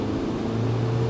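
Nissan 240SX coupe with a dual-cam KA24DE engine pulling at full throttle in second gear, a steady, loud droning engine note with a strong low hum and no pauses.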